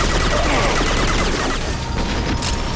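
Gunfire in the video game Mass Effect 2, a dense, loud barrage of shots and booming impacts that runs without a break before easing slightly near the end.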